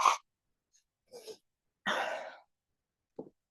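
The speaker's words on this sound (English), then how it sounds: "Once again, blow my nose" A person doing yoga sitting cross-legged blows their nose in a few short, breathy bursts with pauses between them, close and fairly soft, and the last burst is brief and faint.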